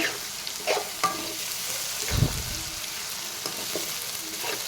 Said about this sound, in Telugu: కట్ చేసుకున్న ఆనియన్ ముక్కలు, అలాగే పచ్చిమిరపకాయ ముక్కలు వేస్తున్నాను. బాగా మిక్స్ చేసుకోవాలి.